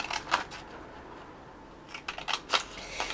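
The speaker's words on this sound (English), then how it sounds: "So then we need to take our scissors, and we're going to cut up in those middle pieces on our long side" Scissors cutting into paper for a small folded treat box, with short clusters of crisp snips and rustles near by, a quiet pause between bursts, no speech.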